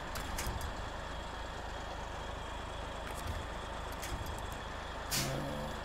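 Truck engine labouring steadily while winching, a low constant rumble with intermittent clanks and a brief hiss of air near the end, close and continuous.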